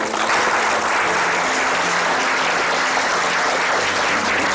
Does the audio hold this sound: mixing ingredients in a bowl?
no